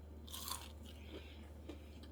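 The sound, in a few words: crunchy bite of crispy panko chicken schnitzel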